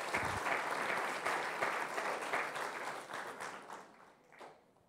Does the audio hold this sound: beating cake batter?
no